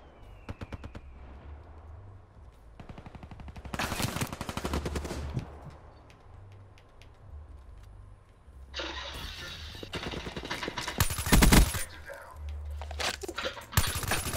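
Gunfire in a shooter video game, with rattling automatic bursts and sharp shots coming in clusters over a low background hum, fairly loud and close.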